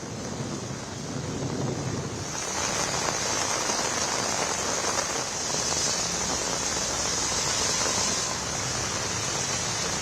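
Heavy rain pours down on a city street in Bengaluru, a dense, steady hiss that swells after the first couple of seconds and holds loud and continuous with a faint windy rush.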